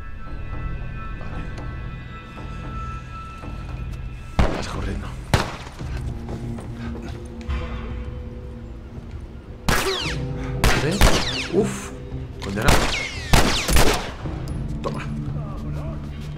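Gunfire in The Last of Us Remastered on PS4, scattered sharp shots and short bursts cracking out in clusters amid game ambience and mechanical noises, with someone talking over parts of it.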